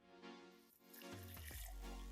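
Boiling water poured into a Brewdini tea brewer, a brief close splashing gush that swells and settles into a steady fill.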